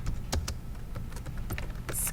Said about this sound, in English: I'm going to type my favorite TV show.